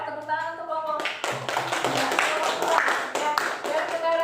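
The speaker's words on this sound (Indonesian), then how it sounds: "tepuk tangan untuk kelompok" A classroom group of students claps for a presenting group, a close burst of hand claps mixed with children's voices and chatter under steady talk throughout.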